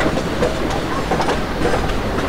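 A simulated Indian passenger train on the Bhusaval–Katni route in the MSTS Open Rails game rumbles along the rails with loud, continuous clickety-clack and a steady, close roar.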